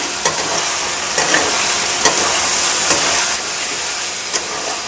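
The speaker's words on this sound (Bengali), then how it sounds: "আদা রসুন বাটা এগুলোকে একটু ভেজে নেব" Ginger-garlic paste sizzles and fries in a pan with tomato for a chicken curry, a steady loud hiss broken by a few soft stirring clicks, no voices.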